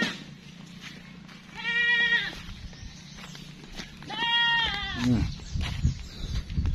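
Goats bleating on a farm, two drawn-out wavering cries a couple of seconds apart, close and clear, followed by rustling and soft thuds of movement.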